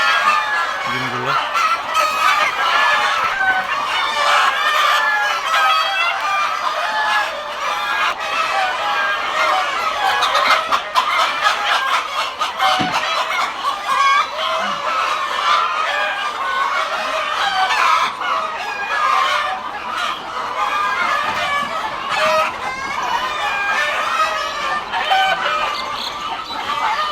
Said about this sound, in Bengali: দেখেন আমাদের একটা মোরগ প্রায় অনেক বড়।